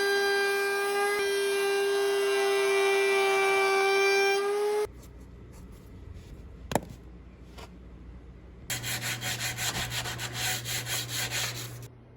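Rhythmic rubbing of sandpaper on wood, a steady back-and-forth scratching in the latter part, preceded by a loud humming tone and quieter handling noises.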